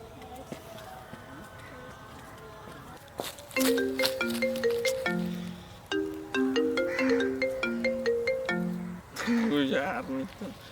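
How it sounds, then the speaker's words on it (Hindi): A bright electronic phone ringtone plays a repeating melodic tune, pausing and restarting several times, clear and fairly close. "केकर फोन आवे लगे है ललिता"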